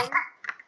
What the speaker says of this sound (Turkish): Aa burada bir tane bebek köylü var.